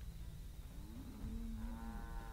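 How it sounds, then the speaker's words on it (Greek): Cows low in the video game Assassin's Creed 3, a drawn-out moo rising and holding before a second overlapping bellow, heard fairly near over steady ambient game noise. "Θα πυροβολήσουμε τις αγελάδες καλύτερα."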